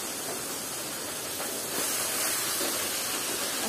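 Leafy greens hit a hot pan and sizzle with a steady, dense hiss close by, growing slightly louder partway through and holding without a break.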